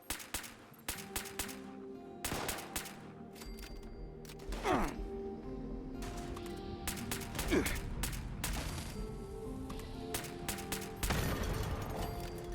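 Minigun fire in the video game Fallout 76 comes as repeated sharp bursts of rapid shots, loud and close, with brief gaps between them and some faint in-game mechanical noises.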